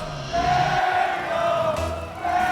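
A large esports arena crowd chants and roars at a Rocket League world championship match, a broad swell of voices rising and falling in a short burst.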